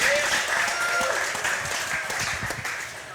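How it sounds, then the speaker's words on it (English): Audience at a gaming LAN event's closing awards breaks into sustained applause, a steady wash of clapping from many hands with a voice briefly over it. "Everybody give a big round of applause."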